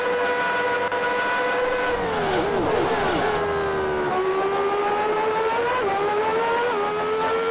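A race car engine in the Grand Prix 2 racing game, 1990 season, whines steadily at high revs, dips and shudders briefly as it downshifts, then climbs again and holds a loud, constant drone.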